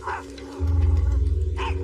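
Dog giving two short sharp barks, one at the start and one near the end, over a loud low throbbing rumble, with no voices.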